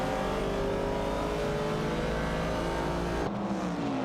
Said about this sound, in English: Bluegrass Railfin is maneuvering a Chevrolet Camaro 70, while Niaib is navigating a Ford Mustang Boss.